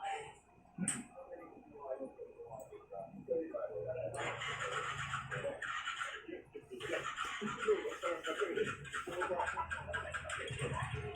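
A motorcycle fitted with a new TTGR starter relay but a low battery tries to start: faint ticking and cranking first, then a rough engine noise that catches and runs unevenly in bursts while people talk over it nearby.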